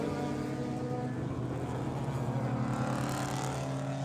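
Race cars drive through turn 10 at Buttonwillow, their engines droning steadily at a moderate distance, with the pitch slowly climbing as they come around. No voices are heard.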